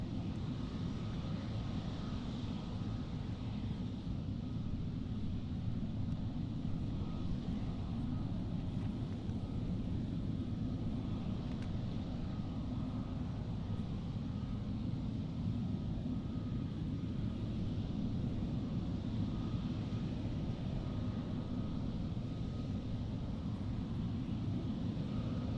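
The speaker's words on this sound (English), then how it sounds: "We're now just waiting for this Emirates Sky Cargo to spool up and begin its journey" Emirates SkyCargo freighter jet at Amsterdam airport, its engines spooling up in a steady, loud, unbroken roar with deep rumble throughout.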